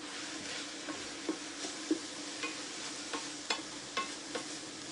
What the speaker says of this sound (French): vous mélangez pour faire revenir